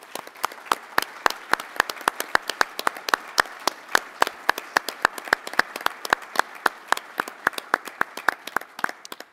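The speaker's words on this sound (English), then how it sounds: "we want to give you one more round of applause for your incredible leadership" A conference audience at a Western Governors' gathering gives a round of applause, a steady stream of sharp, close claps that carries on evenly for several seconds with no talking.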